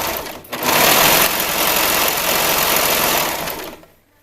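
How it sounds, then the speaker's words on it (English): A sewing machine stitches elastic onto swim bottoms, running in one steady, continuous burst of close, buzzing motor sound for about three seconds before winding down and stopping. "I just let it come off my elastic and let it feed in as I'm sewing."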